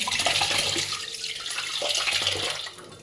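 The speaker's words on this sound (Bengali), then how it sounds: "চালটা ভালোভাবে ধুয়ে নিতে হয়" Rice being washed in water, a continuous close splashing and running-water wash with sloshing movement throughout.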